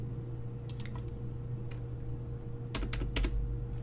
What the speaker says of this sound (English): let's see if I type L in here, will it do anything?